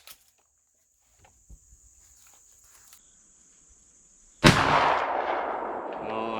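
A single loud shotgun slug blast from a Rock Island Armory VRPA40, fired outdoors with a sharp onset and a long, rolling decay; quiet ambience with faint steady insect buzz and a few small handling clicks come before it.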